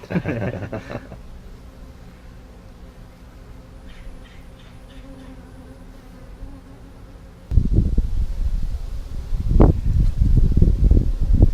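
Honeybees buzz at a steady low level during a winter hive inspection, a faint continuous hum that gives way to louder handling noises and knocks in the last few seconds.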